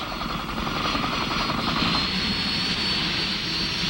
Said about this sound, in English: The lightweight howitzer is sling-lifted by UH-1D helicopters, familiarly called Huey, or internally loaded in CH-47 Chinooks.